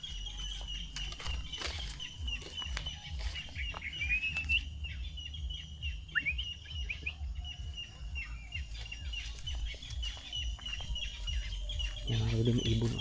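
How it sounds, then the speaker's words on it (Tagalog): Small birds chirp and tweet near a farm field, bright brief calls scattered over steady low background noise, with faint voices in the distance. "Yan mga kaludi, may ibon o."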